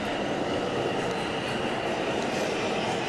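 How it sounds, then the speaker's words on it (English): Recordings of old train sounds play at moderate distance in a New York City park, a steady rumbling rail noise with faint rattling, continuous for a few seconds with no talk. "they're playing the old sounds of the trains"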